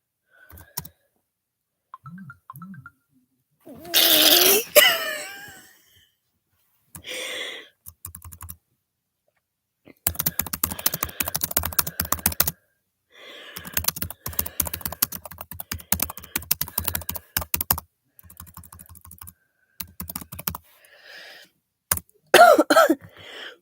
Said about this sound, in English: really like this keyboard sound.